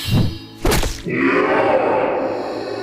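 An axe striking and beheading a creature: a dull low thunk, then a heavier second impact, trailing into a long rumbling, echoing tail.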